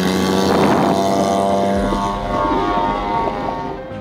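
A large remote control model airplane, about three times a boy's height, flying with a steady propeller-engine drone that shifts pitch as it passes, loud and alone.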